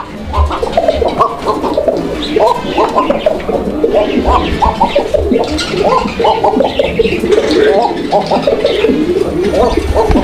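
A pair of Koka pigeons at a pigeon farm coos close and loud, with deep, rounded calls repeating in a steady rolling rhythm throughout.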